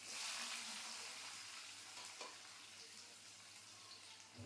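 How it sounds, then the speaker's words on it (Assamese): Bitter gourd pieces sizzle steadily in hot oil in a home kitchen, a continuous close frying hiss with a few faint stirring clatters, and no voices. "এয়া তেল গৰম হৈ গ'ল, ইয়াতে ভাত কেৰেলা দি দিছোঁ।"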